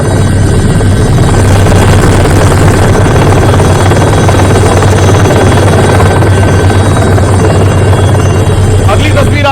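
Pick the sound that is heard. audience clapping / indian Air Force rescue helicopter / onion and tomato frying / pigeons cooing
indian Air Force rescue helicopter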